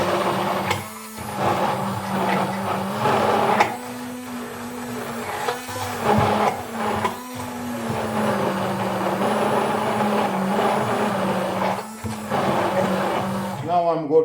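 A Silvercrest SSMS 600 E5 hand blender mixes olive oil and salt with a steady, close motor whine. The whine breaks off briefly a few times and then runs on.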